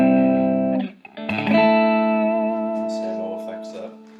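An electric guitar plays clean through a Boss Katana 50 amp with no effects: sustained chords ring out, a short break, then a new strummed chord rings and slowly decays.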